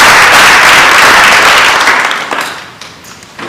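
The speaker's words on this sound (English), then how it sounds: "Can we get a round of applause?" A room full of people applauding, loud at first and then fading away over a few seconds.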